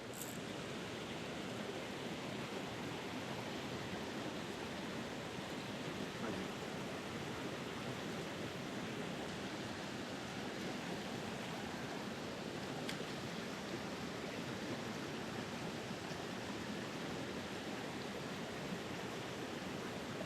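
Continuous rushing wash of a river current running over ripples on a trout stream, even and unbroken from start to finish, with no talking.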